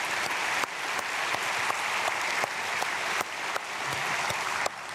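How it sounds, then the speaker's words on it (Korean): Church congregation applauding during a Korean early-morning prayer service, steady dense clapping throughout with a few brief dips, no voices over it. "박수하겠습니다."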